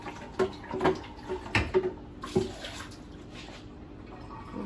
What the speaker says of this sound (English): Rinse it out one more time.